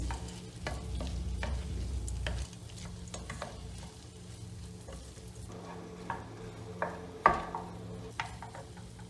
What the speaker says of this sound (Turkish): Şimdi bir su bardağı mercimeğimi ekliyorum. Onu da birkaç dakika şöyle kavuracağım.